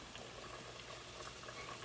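Thin pork schnitzel frying in hot oil, a faint, continuous bubbling sizzle with small crackles, heard alone without talk.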